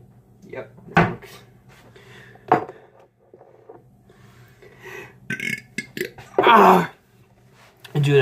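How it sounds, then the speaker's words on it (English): A loud burp bursts out at about one second, with a second belch-like burst near two and a half seconds, set among kitchen noises and bursts of talk while guacamole is being made. "I just hella burped."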